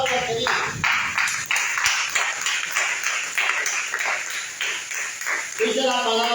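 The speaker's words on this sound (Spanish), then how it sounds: "Denle un fuerte aplauso al que dice." A church congregation claps loudly at a Spanish-language service, with steady, dense applause running for several seconds before a voice resumes at the end.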